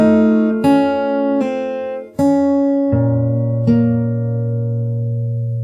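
Fingerstyle guitar slowly picking the closing phrase of a song, six distinct plucked notes spaced evenly, each ringing out close and clear with no voices.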